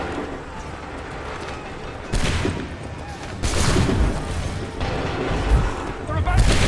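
In Assassin's Creed 3 Remastered, cannon and gunfire erupt in a battle scene as several heavy booming volleys crash in successive bursts over ongoing rumbling noise, with voices in the background.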